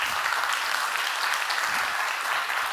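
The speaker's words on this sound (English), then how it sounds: "round of applause to Andy WELFLE." Conference audience applauding a speaker at a design event in New York, a dense, even wash of clapping with no talk.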